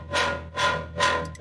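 Three short swelling vocal-like synth notes from the Delay Lama plugin with delay and an equalizer cutting the low end, thin and bright with a faint echoing tail.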